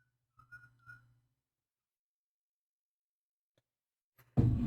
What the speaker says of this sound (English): it's just some dog outside howling